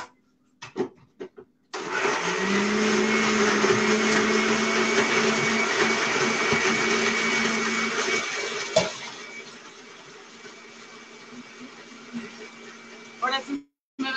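Kitchen blender grinding pressed chicharrón (pork crackling), a loud steady motor whir starting abruptly and running for several seconds, then easing as the load thins before cutting off, with brief clatter around it.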